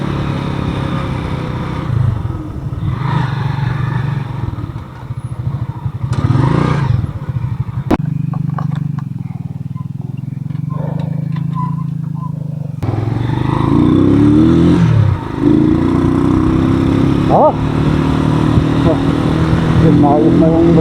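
A motorcycle engine revs and idles after its loose drive chain is adjusted, with clattering mechanical noise and rising engine pitch close by, mixed with people talking throughout.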